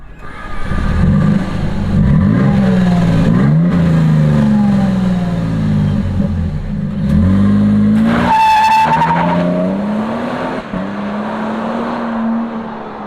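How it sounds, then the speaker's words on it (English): A 2023 Toyota Sequoia hybrid accelerates with a loud, steady exhaust drone whose pitch climbs repeatedly through gear changes, heard close by for about thirteen seconds with a brief higher whine near the middle. "It actually has a decent exhaust note."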